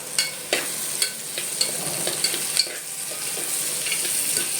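Onions fry and brown in a pan while a home cook prepares red meat. A steady sizzle runs throughout, with soft, repeated scraping stirs on top. No one talks.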